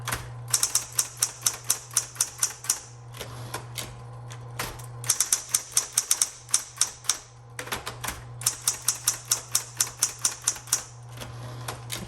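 Rapid, crisp keystrikes from a 1970s Smith Corona Electra 110 electric typewriter come in steady bursts, with a constant motor hum underneath and brief pauses between runs of typing.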